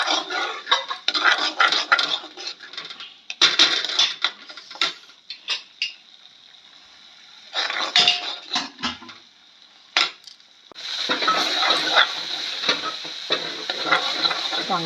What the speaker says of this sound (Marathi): चांगला मसाला परतून घ्यायचा आहे